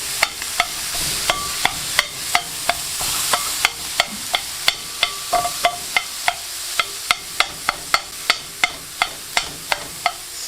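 Onions, peppers and jalapenos fry on a flat griddle for a chopped cheese sandwich, a constant sizzle broken by sharp, regular metal spatula taps and scrapes throughout.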